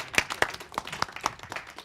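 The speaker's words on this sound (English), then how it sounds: "Clap it up for him." Audience applause at a research school talk on brain myths: a short burst of scattered hand claps from a modest crowd, irregular and close, under two seconds long.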